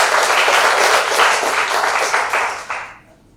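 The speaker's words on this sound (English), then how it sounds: "Do they deserve a round of applause?" Audience applauding during an interview session, a full burst of clapping that holds briefly, then tapers off with a few last scattered claps before fading to quiet.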